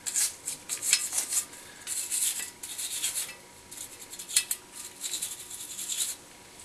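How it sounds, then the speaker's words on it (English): A Lee Pro 1000 progressive press gets scrubbed clean with a brush, producing quick, hissy, rasping strokes in uneven bursts at a moderate level, close up, with no talking. "You want to scrub it really, really well."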